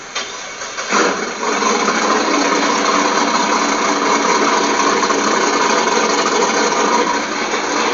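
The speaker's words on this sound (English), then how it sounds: "we're not running any mufflers because mufflers slow things down. And yeah, that's just at idle at the moment" A drag race car with a roll cage and no mufflers fires up with a cranking burst, then settles into a loud, steady, raw idle that runs on unbroken and close.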